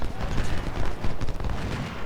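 Dense, continuous crackle of musket volleys and distant battle din from Ultimate General: Civil War, a Brandy Station engagement, rattling steadily at moderate loudness with no single clear shot standing out.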